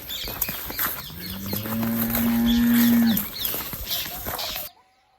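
Hungry cattle at a cow shelter let out one long, loud, close moo, with faint birdsong around it and a short noisy stretch before the sound cuts off to silence.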